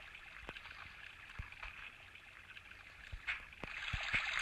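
Water flows and trickles softly in the survival game Survivalcraft, a faint, steady gurgling stream broken by a few light clicks and taps, growing a little louder toward the end.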